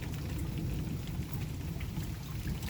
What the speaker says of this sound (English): here we go with some beautiful rain